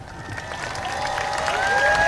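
An airshow crowd at the 2018 NAS Jacksonville show applauds the US Navy and Marine Corps Blue Angels. A steady wash of clapping and cheering swells gradually louder over a couple of seconds.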